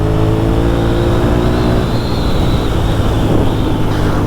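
A 1997 Suzuki TL1000S motorcycle accelerates hard, its engine a loud, continuous, rough roar that rises in pitch and is heard up close with heavy wind buffeting.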